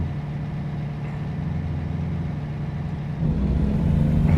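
A truck engine idles and runs steadily in a driving video game, a low continuous rumble that swells slightly louder near the end, with no talk over it.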